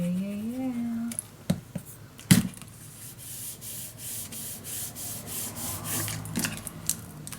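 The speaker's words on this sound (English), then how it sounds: "Burnish it down," Glued paper being burnished down by hand on a paper bag mini album, soft scraping rubs that come and go over a quiet room with a few louder knocks.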